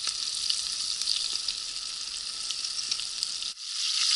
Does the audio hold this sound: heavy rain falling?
no